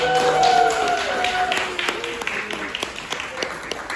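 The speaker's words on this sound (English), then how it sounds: "Give yourselves a round of applause." Scattered clapping from a small Hawaiian language class, light and uneven taps that thin out, with voices talking over them.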